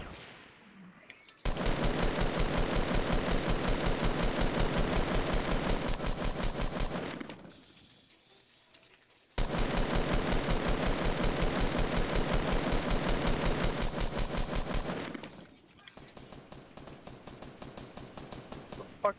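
Automatic gunfire in the video game Fortnite: two long, loud, rapid bursts of several seconds each, separated by a short lull, followed by a fainter trailing stretch of shots, with no talking.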